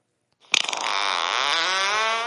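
A fart gadget set to its hammer setting lets out a long buzzing fart, starting with a few sputtering pops and settling into a steady loud reedy drone lasting nearly two seconds, alone without talk.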